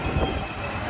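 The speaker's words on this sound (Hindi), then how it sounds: "तो अभी हम लोग अंधेरी मेट्रो स्टेशन पे है" A metro train at Andheri metro station in Mumbai, with loud rolling rumble and squealing wheels filling the whole second, close and steady.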